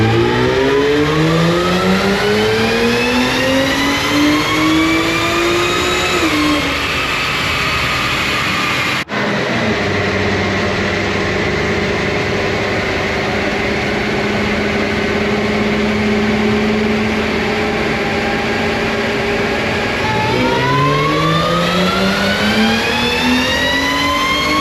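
A car on a dyno, running an E40 Stage 2 Plus tune, makes a loud, close baseline pull: the engine revs climb steadily, drop off, then hold a sustained drone before rising again near the end.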